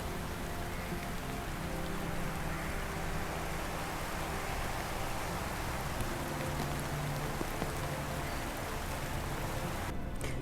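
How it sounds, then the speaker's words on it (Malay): Rain falls steadily at the start of a cycling outing, a dense, even hiss of drops on surfaces that holds constant throughout, with a faint hum beneath and no talking. "bila dah sampai, hujan!"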